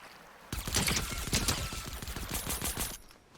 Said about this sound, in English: there's someone killing an animal with a shotgun